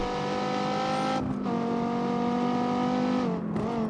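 A Dodge Viper's engine in the racing game CarX Street revs continuously, its harmonic whine climbing steadily, then briefly dropping twice as if shifting gears before pulling again, loud and unbroken.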